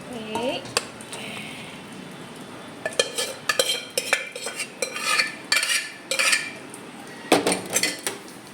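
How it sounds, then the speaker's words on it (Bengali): Food is served from a cooking pot in a home kitchen, with a rice dish finished with ghee; a series of metallic scrapes and clinks from a ladle and utensils against the pot come in irregular bursts, fairly close, with faint voices in the background. "চলো এবার খাবারটা বেড়ে দিই"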